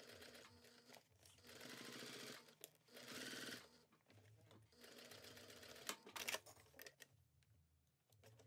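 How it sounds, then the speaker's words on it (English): Sewing machine stitching a cork bag lining closed from corner to corner, a close rapid mechanical whir in several runs of a second or two, with brief stops and handling noises between. "So I'm going to sew from corner to corner."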